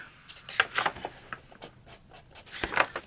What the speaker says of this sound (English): that scratching noise you hear, that's not just the marker hitting the paper